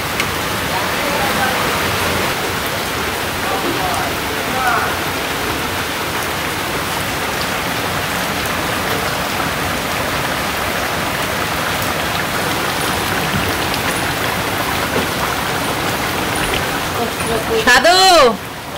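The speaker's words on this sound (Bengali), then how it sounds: "বৃষ্টিতে ভিজবা না" Steady rain hisses throughout in a village, a constant broadband patter with faint voices in the background and a brief louder knock near the end.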